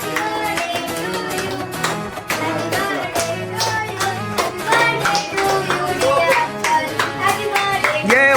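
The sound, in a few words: applause, clapping for a birthday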